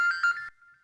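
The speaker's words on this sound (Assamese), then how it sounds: "এই সময়ত কোনে ফোন কৰিছে?" A phone ringtone plays as a sound effect in an Assamese radio drama: a bright, clean electronic tone with a few pulsing notes for about half a second, then a thinner, fainter tone trailing off.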